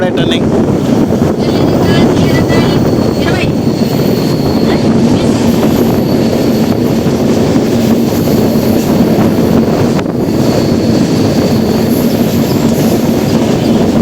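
Indian Railways Kanyakumari Express slowing as it runs, with a continuous loud rumble and faint clickety-clack of wheels on rails and wind buffeting the microphone throughout.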